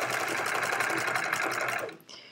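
A sewing machine stitches a hedgehog quilt in a fast, even run of needle clatter, close and moderately loud, stopping abruptly after about two seconds.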